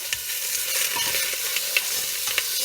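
Food tossed and seared in hot oil in a home kitchen pan, a steady bright sizzle with a few sharper clinks and scrapes of stirring, close and continuous with no talking.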